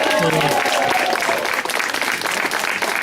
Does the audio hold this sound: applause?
yes